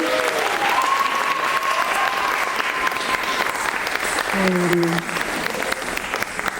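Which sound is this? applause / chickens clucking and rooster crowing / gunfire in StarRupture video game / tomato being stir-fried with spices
applause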